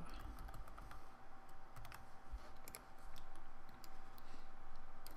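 Quiet, steady typing on a computer keyboard while entering text in AutoCAD, a run of soft, rapid key clicks with a few sharper taps, set against a low background hum.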